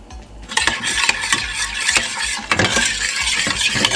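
A spoon stirring sugar into a mango glaze in a heated pan, brisk, close scraping strokes against the metal with a light sizzle underneath, steady and loud with no talking.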